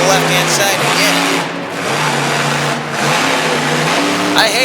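A monster truck engine revs hard during a freestyle run at a Pocatello, Idaho event, the roar rising and dipping in repeated bursts, loud and close, with a commentator talking over it.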